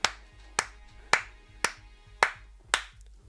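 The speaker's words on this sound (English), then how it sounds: "let's give Canon some freaking hand claps" Six separate hand claps at a steady, unhurried pace, each a sharp close-up smack with a short decay, over a low background hum and no talking.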